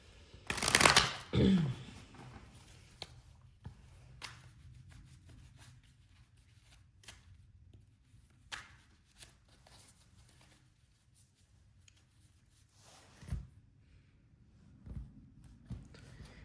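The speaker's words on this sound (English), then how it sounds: "Now the Tarot, I always like to shuffle just for the good of the cause." A brief burst of tarot cards being riffled and shuffled, fairly close, followed by quiet room tone with a few soft taps and rustles.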